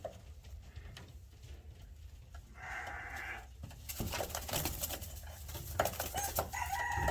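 Young backyard chickens cluck and chatter while a rooster crows, a steady mix of close, fairly loud calls that grows busier in the second half with no talking.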